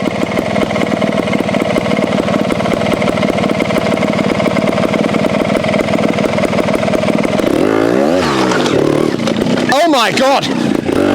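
A new trials motorcycle idles with a steady, close rumble and then revs up as it climbs over a mossy rock. A rider exclaims over the engine near the end.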